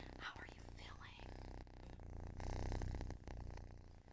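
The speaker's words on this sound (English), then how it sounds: "He has a very therapeutic purr." A kitten purrs in a soft, steady rumble that runs through the whole stretch, blended with gentle close-up rustling and whisper-like handling sounds in a calm, intimate setting.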